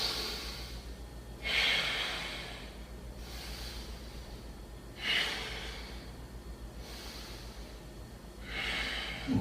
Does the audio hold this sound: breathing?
yes